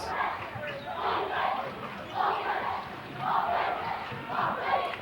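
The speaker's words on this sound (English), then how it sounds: "Both crowds chanting back and forth." Two crowds at a 2001 high school basketball game between the SKHS Wolves and the Bremerton Knights chant back and forth in a gym, swelling in repeated rhythmic waves that fill the room.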